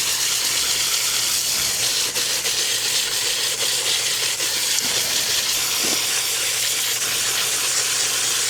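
A strong, continuous hissing water spray blasts dirt from a hot tub filter, loud and close with slight fluctuations as the jet moves across the pleats.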